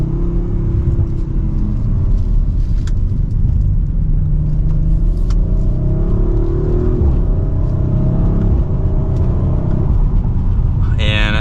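A 2023 Audi RS5 Coupe's engine rumbles and climbs steadily in pitch as it accelerates from second gear, heard from inside the cabin with a constant low road drone.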